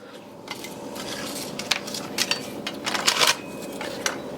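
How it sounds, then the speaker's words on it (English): Ritz crackers, some broken, crackle and rustle as they are laid across the bottom of a pan, a close, dry shuffling with a few brighter crunchy bursts near the end and no voices. "we're just going to line the bottom of our pan with these crackers"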